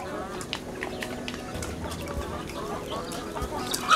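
A flock of chickens clucks and chatters in a home garden, with scattered soft clucks over a low, steady outdoor background.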